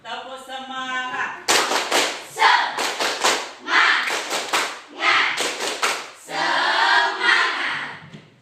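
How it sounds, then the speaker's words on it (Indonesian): A classroom of students performs a patterned clapping chant, answering a teacher's spoken call with sharp, grouped claps in repeated rhythmic sets between bursts of unison chanting. "Tepuk semangat"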